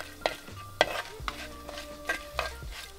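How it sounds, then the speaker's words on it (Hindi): Chilies frying in oil that is being infused are stirred in a pan, giving a soft bed of sizzle broken by several light scraping strokes at an irregular rhythm, close and quiet. "और ऐसे हम ऑयल को भी इन्फ्यूज़ कर रहे हैं, sort of like a chilli oil. इसे कंटिन्यूसली स्टर करें."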